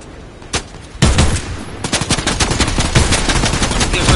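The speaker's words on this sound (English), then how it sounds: "I don't even know who y'all are shooting at." Rapid gunfire from a Fortnite match, a single early shot followed by sustained bursts of automatic fire that crackle loudly and continuously to the end, with no talk over it.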